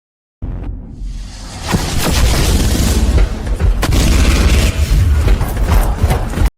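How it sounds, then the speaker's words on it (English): Loud, sustained barrage of booming bursts and roaring blasts from a Warhammer Astartes bolter firing full auto with explosive rounds, one dense continuous wall of noise with no talk. "even Astartes themselves have to brace when firing full auto with a bolter"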